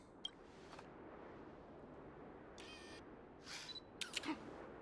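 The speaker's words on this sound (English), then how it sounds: "Did you have your shutter sound turned on, March?" Camera shutter clicks inside the Honkai Star Rail video game, a few brief bright snaps over a faint, noisy background with no voices.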